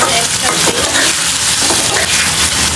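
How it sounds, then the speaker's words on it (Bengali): Sliced bitter gourd (karela) fries lightly in a hot pan with a loud, continuous sizzle and some stirring scrapes, close up and steady throughout. "একটা হালকা একটু ভাজা করে দিয়ে দিব করলা"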